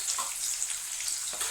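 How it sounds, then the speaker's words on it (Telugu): Onions sizzling in hot oil in a pan, a steady close crackle and hiss with faint stirring, no talk. "ఇవి ఎర్రగా వేగాలండి ఆనియన్స్ అయితే."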